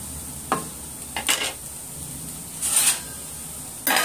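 Poha is stirred in a pan with short scraping, rustling strokes, four separate bursts spaced over a few seconds against a quiet background hiss.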